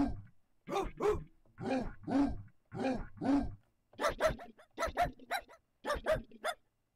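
A dog barking sample plays back in a music production session, a series of clear, close barks and woofs in short bursts separated by silence, some processed and layered.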